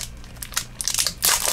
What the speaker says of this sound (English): Why am I slowly losing my mind opening 24 packs of cards?